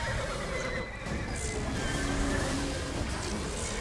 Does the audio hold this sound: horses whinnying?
yes